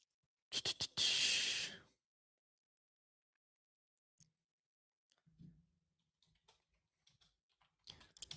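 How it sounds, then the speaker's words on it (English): A burst of rapid keystrokes on a computer keyboard lasts about a second and a half, followed by a long near-silent pause with a few faint scattered clicks and soft sounds and a brief resumption of light tapping at the end. "Typing it out right now."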